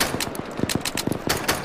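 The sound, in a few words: gunfire close by in video game Arma 3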